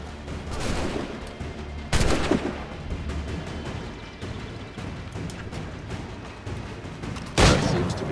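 Gunfire in the video game Assassin's Creed 3, a run of crackling shots with two louder bursts standing out, heard on its own without talk.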